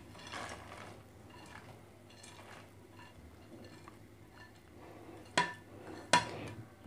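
Vermicelli stirred in a pan with ghee as dry fruits go in, giving soft scraping and shuffling under a low steady hum, then two sharp clinks of metal against the pan near the end.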